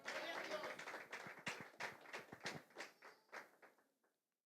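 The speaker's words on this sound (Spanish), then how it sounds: "Vamos a dar un aplauso al Señor en esta hora." A church congregation claps in praise during a service, with fairly quick, irregular claps that taper off and fade to silence within about four seconds.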